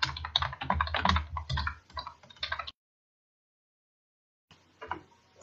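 Rapid typing on a computer keyboard, a close burst of clicking keystrokes for a couple of seconds, then silence, then a few more faint key taps.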